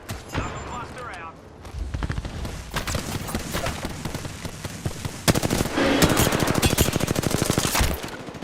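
Rapid bursts of automatic gunfire crackle loudly in an online squad shooter, heavy volleys coming close and repeatedly, intensifying toward the end, with game voice lines mixed in.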